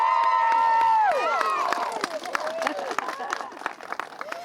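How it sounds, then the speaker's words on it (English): A large crowd cheering and applauding at an outdoor charity fundraising event, a sustained roar of voices and clapping that rises loudly at first, then breaks into scattered shouts and claps, with whistles and voices mixed in. "I think we just need one more huge cheer"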